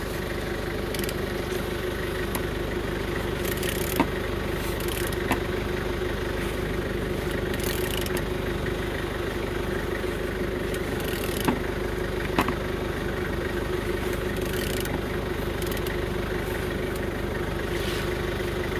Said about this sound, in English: Turning engine